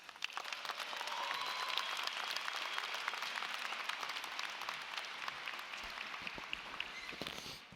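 Graduates at the 2017 Hofstra University undergraduate commencement break into dense, sustained applause from a large crowd, steady throughout with scattered individual claps standing out.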